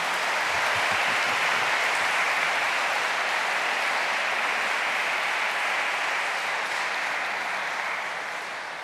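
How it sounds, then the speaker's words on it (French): A church congregation applauds during Sunday mass at the Couvent Saint Antoine, a full sustained round of clapping that fills the room and tapers slightly at the end. "je crois qu'on peut vraiment applaudir le Seigneur qui est en elle."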